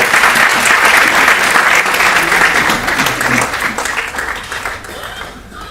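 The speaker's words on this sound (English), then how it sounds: "Everybody please give a round of applause." Audience applause at a school prize distribution function, loud, dense clapping from a large hall that holds steady and then tapers off toward the end.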